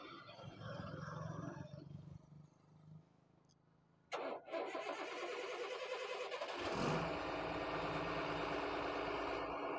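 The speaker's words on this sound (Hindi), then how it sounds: "गाड़ी बार बार बंद हो गई है" A Tata truck engine runs roughly and dies, goes briefly quiet, then cranks and catches with a sudden loud start and settles into a steady, revving rumble.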